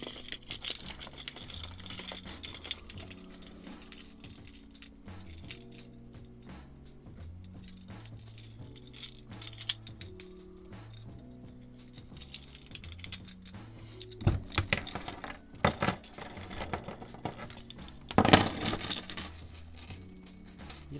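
Metal keys and a wallet on tangled chains jangle and clink in irregular bursts, with sharper rattling flurries near the end, heard close and fairly loud over faint background music.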